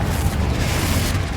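A Confringo spell explosion in the game Hogwarts Legacy, heard as a dense, sustained low rumbling boom that fills the whole moment, loud and close with no clear break.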